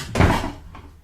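A door is pulled shut in a radio drama of Treasure Island, giving one close, solid thud followed by a short fading tail in a quiet room.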